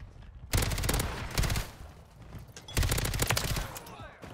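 FJX Horus submachine gun firing in Call of Duty: Modern Warfare III, two rapid automatic bursts of about a second each separated by a pause, loud and close, with a voice talking.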